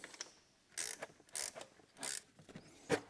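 A brand-new pulley on a BMW Touring engine is spun by hand in several short whirring bursts, each fading out quickly. It is quiet and close, with no voices.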